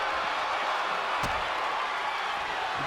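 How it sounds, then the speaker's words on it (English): A wrestling crowd at an indoor show roars in a steady, dense wash of cheering and noise, with one brief sharp slam-like hit near the middle. "You can hear the crowd."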